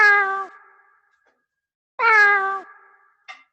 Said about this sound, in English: I don't want to hear that when I'm playing this cat sound.